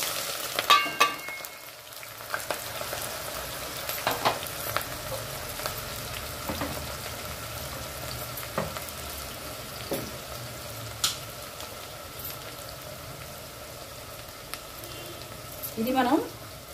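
Onions fry in hot oil with six cloves, four cardamom pods and an inch of cinnamon stick, a soft continuous sizzle with occasional stirring clinks and a voice speaking over it.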